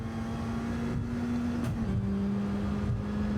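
A Bac Mono race car engine in Gran Turismo 7 on the Tokyo Expressway hums at a steady, loud, continuous drone while the throttle is eased, its pitch dipping briefly and then settling again.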